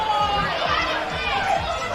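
A football crowd at Longford during an NTFA Premier League senior men's match between the Tigers and Bulldogs, a steady, dense roar of chatter and voices filling the whole clip with no breaks.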